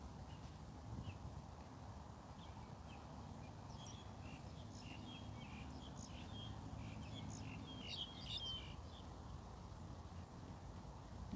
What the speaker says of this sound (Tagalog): Yan, nanganganta yung ibon.